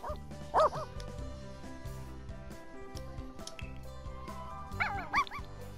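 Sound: dog barking

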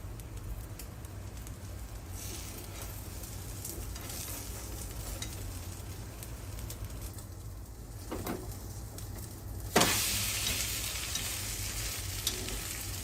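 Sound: eggs with cha-om frying thick in a pan

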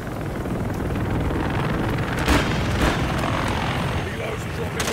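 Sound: helicopters in the Call of Duty Modern Warfare 3 video game

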